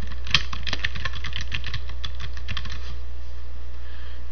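Quick clicking keystrokes on a computer keyboard while entering a manufacturer's name in a Zen Cart store admin. Light taps cluster in the first few seconds over a steady low hum, then the keys go quiet.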